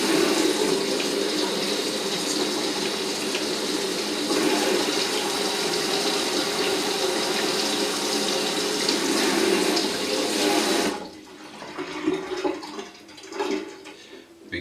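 A water tap blasts a steady, loud stream of lukewarm rinse water over a vinyl record in a Vinyl Styl cleaning setup for about eleven seconds, then cuts off, leaving faint dripping and handling noises.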